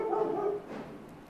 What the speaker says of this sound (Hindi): यहाँ पर हमारा हरामी कुत्ता चिल्लाते हुए